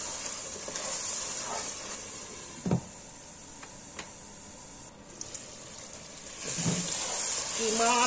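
Minced keema being fried again in a pan for qeema matar, a steady close sizzle and hiss with occasional stirring scrapes and clinks, fairly loud throughout.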